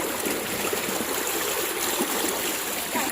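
Spring water flows continuously from its source at a natural mineral spring, a steady close trickling and gurgling stream with no voices over it.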